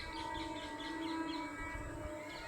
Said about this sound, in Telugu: ట్రైన్ వెళ్తుంది,